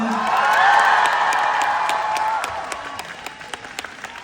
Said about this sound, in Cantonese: 我哋再次熱烈嘅掌聲邀請翻我哋隊 band 上台先啦